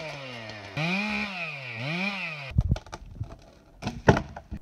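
A chainsaw engine runs during tree felling, its pitch rising and falling as the throttle revs for about two and a half seconds, then giving way to sharp knocks and clatter.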